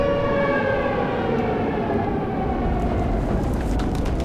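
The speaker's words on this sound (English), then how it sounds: "those are some loud sirens" Tornado warning sirens wail loudly and continuously, a sustained droning tone with a rumbling background and no voices.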